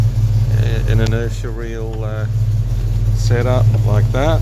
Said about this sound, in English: But yeah, she idles beautifully.